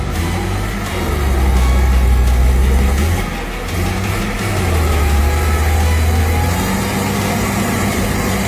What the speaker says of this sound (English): The truck is throwing everything it has at this climb.